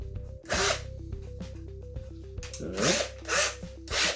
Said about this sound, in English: Then I'm going to drill my countersink.